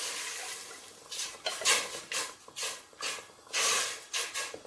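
Water is poured into a pan of sautéed spices while cooking spicy-sour fish, Medan style, giving a series of bursts of sizzling hiss and splashing, each rising and fading in quick succession.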